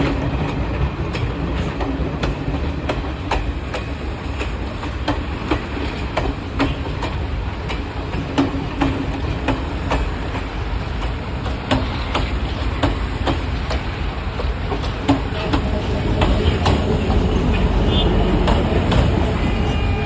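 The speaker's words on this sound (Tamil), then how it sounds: "ரெண்டு ட்ரெயினு கிராஸ் ஆகுது பாருங்க" Two trains pass each other on the tracks with steady clickety-clack rhythm and wheel noise, continuous and fairly close, with faint voices now and then.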